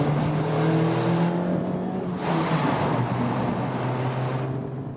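A Mazda MX-5 Miata sports exhaust roars loudly and echoes inside a small tunnel, its drone rising and falling with a revving exhaust note.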